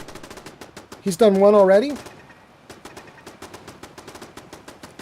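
Turret gunfire in Fallout 4's Far Harbor, a steady stream of rapid, evenly spaced shots that carries on throughout, with a swooping tonal game sound in the first half and a brief spoken line over it.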